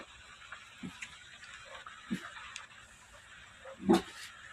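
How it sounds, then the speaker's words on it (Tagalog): A dog gives a few short, faint barks spaced a second or so apart, with the last one the loudest, over a quiet household background. "Tahol ng tahol ikaw."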